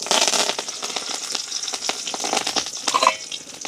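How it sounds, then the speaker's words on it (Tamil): Mustard seeds, fennel seeds and curry leaves hit hot oil in an outdoor village kitchen, erupting into a loud, dense crackle of rapid spitting pops and sizzling that carries on without pause. "கொஞ்சமாக நாங்கள் வந்து கடுகும் பெருஞ்சீரகம் போட்டுக்கொள்வோம்"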